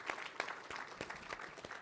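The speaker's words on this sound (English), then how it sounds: "Let's give a round of applause for all the marketing people and setup team." An audience at a wealth planning summit claps for the marketing and setup team: quiet, scattered claps in an uneven patter, heard from a distance without cheering.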